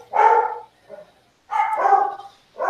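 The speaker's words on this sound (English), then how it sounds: "we got a doggy alarm" A dog barks in loud, close, separate bursts: two full barks about a second apart, a softer yip between them, and another bark starting at the end.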